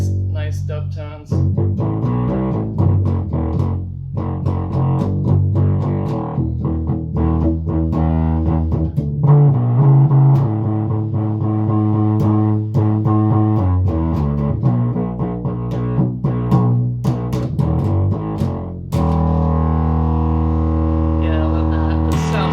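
A bass guitar played through heavy fuzz, thick and saturated, with continuous low riffing notes for over twenty seconds.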